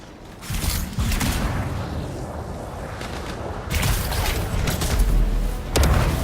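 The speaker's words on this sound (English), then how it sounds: "It'll be a contained explosion." Canisters explode in the sci-fi action video game Anthem, heavy booming blasts and thuds that swell twice, with whooshing debris between them, loud and close.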